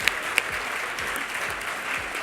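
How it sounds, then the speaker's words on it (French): A gala audience applauds the 2014 Fernand Cloutier prize laureates with steady, dense clapping that fills the room at moderate volume, with a couple of sharper claps near the start. "Applaudissons chaleureusement les lauréats du prix Fernand Cloutier 2014."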